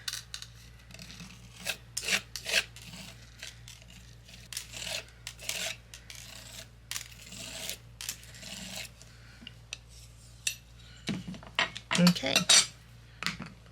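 A Hero Arts palette knife with a wooden handle scrapes and spreads Ranger texture paste from a tub, giving close, irregular rasping and tapping strokes with brief gaps and a short spoken word.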